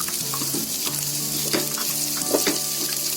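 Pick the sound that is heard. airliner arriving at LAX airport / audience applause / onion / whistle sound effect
onion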